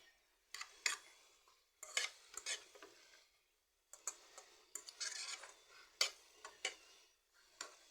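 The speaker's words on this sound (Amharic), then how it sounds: "ዘይት ጨምሬበት በዘይት እየጠበስኩት ነው።" Shredded cabbage with turmeric frying in oil in a pan is stirred with a utensil, making quiet, intermittent scraping and stirring strokes over a faint sizzle, with no voices.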